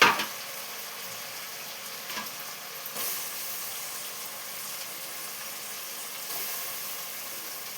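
Raw prawns fry in a hot pan for a home-cooked prawn dish, giving a steady, moderately loud sizzle with a few small stirring bumps, no voices.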